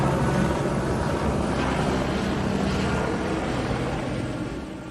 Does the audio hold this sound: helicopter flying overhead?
yes